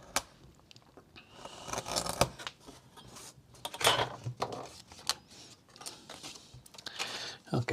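A thin wood strip for a 1/16 scale Sopwith Camel model aircraft kit is cut with small, faint scraping and snipping sounds in uneven bursts, while someone talks quietly.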